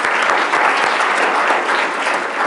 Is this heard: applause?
yes